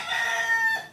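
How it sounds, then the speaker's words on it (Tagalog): A rooster crows once, a short, close, bright call with a rising and falling shape. "Naririnig niyo po yung manok na yon."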